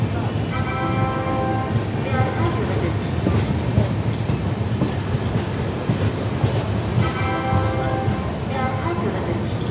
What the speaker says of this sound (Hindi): अभी ये ट्रेन में हम चढ़ेंगे